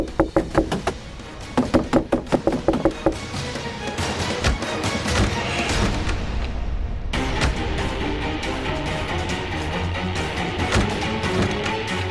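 Hard, rapid banging and knocking on a door comes in bursts during the first seconds, and then a dense, loud sustained clatter takes over for the rest.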